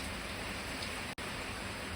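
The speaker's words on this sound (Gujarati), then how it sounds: "જો વરસાદ શરૂ થયો છે" Steady rain starting to fall outdoors, an even hiss of drops holding through the whole stretch with one brief break near the end, with no voices.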